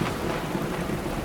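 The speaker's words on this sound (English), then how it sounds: "We had one crack of thunder" Thunder rolls during a downpour storm over a lake in the Boundary Waters, a loud, close, steady broadband rumble mixed with heavy rain, with no voices.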